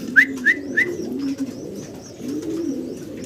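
Barhma pigeons cooing at a farm, three quick near calls at the start followed by soft, low, rolling coos that continue steadily in the background.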